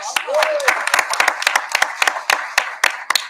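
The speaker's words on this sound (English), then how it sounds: "Let's give them another round of applause." A Board of Education meeting audience gives new school administrators a round of applause: a modest group clapping, with distinct individual claps audible throughout the brief, moderately loud burst.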